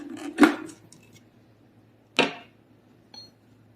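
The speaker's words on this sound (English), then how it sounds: "I'll scrape the sides of the mixer" A spatula scraping the sides of a stand mixer bowl of butter cake batter: two sharp scrapes about two seconds apart, then a fainter third, close and clear with no talk.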